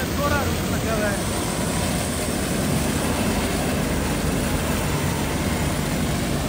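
A corn harvesting machine runs with its rear crushing rotor turning, giving a loud, steady, continuous mechanical roar and rumble throughout, with no breaks.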